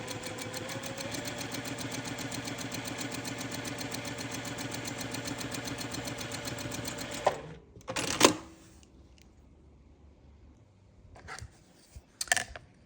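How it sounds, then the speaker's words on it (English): Sewing machine stitching a seam on a quilt side corner unit, a steady fast mechanical whir for about seven seconds, then stopping, followed by a few brief handling clicks and rustles. "I'm just going to sew right down that line again."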